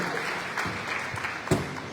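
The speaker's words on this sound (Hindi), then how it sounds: "एक बार जोरदार तालियां सभी युवकों ने बजाकर अपना स्वागत करना चाहिए।" A crowd at a political rally in Hyderabad claps, a dense, fairly loud burst of applause with a sharper clap standing out near the end.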